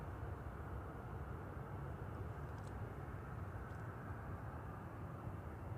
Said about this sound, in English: Williams FJ44 engine.